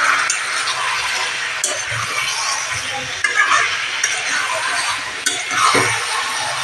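Chicken meat sautéed and stirred in a pan with loud continuous sizzling, spatula scrapes and occasional clinks against the metal, with faint voices in the background.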